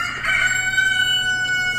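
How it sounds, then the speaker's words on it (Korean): A rooster crowing plays through a church sound system during a Sunday sermon, one long, loud sustained crow with a steady ringing tone over a constant background hum. "이 닭이 꼿꼿해 세 번을 우는 것입니다."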